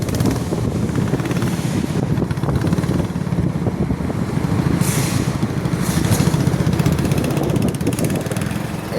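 A trawler's engine drones steadily and loudly as the boat turns against a strong current, its chugging motor mixed with rushing wind buffeting the microphone throughout.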